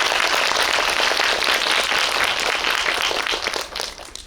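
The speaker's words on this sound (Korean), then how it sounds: "두 감독님, 조연철 감독님과 이태원 감독님을 큰 박수로 맞이해 주시기 바랍니다" Dense audience applause welcoming two film directors at an indie cinema forum screening talk, a steady wash of many hands clapping that holds strong throughout before beginning to thin at the end.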